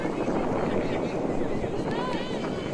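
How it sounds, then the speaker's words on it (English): Gusts of wind buffet the effects microphone on a windy day at an Australian rules football match between the Centennial Tigers and the San Francisco Iron. A steady, loud roaring rumble runs the whole time, with faint voices beneath it. "can hear the wind in the effects mic"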